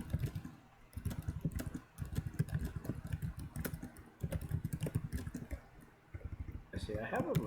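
Fingers tap rapidly on a computer keyboard in uneven bursts with short pauses, close up, while a voice talks over parts of it and a low engine-like hum runs underneath.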